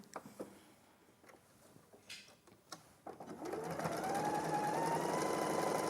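A sewing machine starts up after a few sparse clicks and then runs steadily, stitching a quarter-inch seam at close range with a whirring, rhythmic hum.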